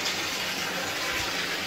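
Hot water runs from a tap into a bathtub, producing a steady, close, full-bodied gush that holds level throughout with no talking.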